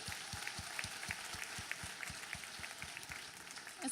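A church congregation applauds together after worship, with a steady, rhythmic beat of claps under a broad wash of crowd noise.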